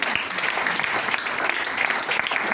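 A church congregation applauding during a sermon, a dense, steady burst of clapping from many hands filling the room without a break.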